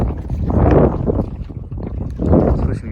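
Strong wind buffets the microphone while kayaking on icy cold water in high winds, coming in two heavy low rumbling gusts with a lull between them.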